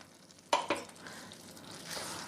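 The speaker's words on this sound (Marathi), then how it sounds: "ह्यामध्ये हरभरा शिजवलेलं पाणी घालते मी" Chickpea cooking water splashes into a hot pan of potato and chickpea curry, setting off a sharp hiss with two quick pours, then a soft sizzle that carries on quietly.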